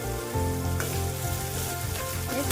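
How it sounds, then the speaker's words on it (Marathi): Chopped onions for kanda pohe sizzle in oil in a pan, a continuous close crackling fry with light scraping as they are stirred, and no voices. "कांदा गुलाबी होईपर्यंत त्याला परतच घ्यायचं"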